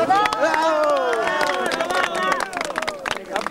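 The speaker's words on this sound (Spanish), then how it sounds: "¡Aplausos!" Crowd at a patron saint festival for San Pedro in San Pedro de Cajas, Tarma, clapping in sharp scattered bursts under a loud voice and lively crowd chatter.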